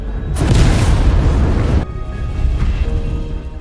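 A meteor slams down and bursts in a sudden loud boom, followed by a long rumbling roar that cuts off abruptly, leaving a quieter low rumble with faint tones.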